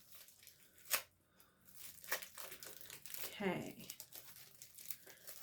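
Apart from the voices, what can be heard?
tearing open a Spongelle sponge package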